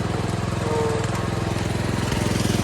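A junk lawn mower's engine runs close and loud, holding a steady, rapidly pulsing idle chug throughout with no voices.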